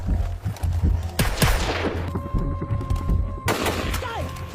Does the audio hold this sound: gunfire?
yes